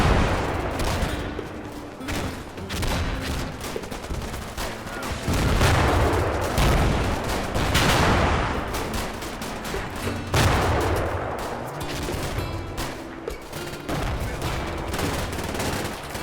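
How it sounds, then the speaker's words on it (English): A 150mm howitzer bombardment and gunfire in the Combat Mission Final Blitzkrieg war game, set around a church in Hamburg, heard as a dense run of heavy booms and crackling shots with rolling rumble between the bursts. "Back at the church, the 150mm howitzer bombardment begins."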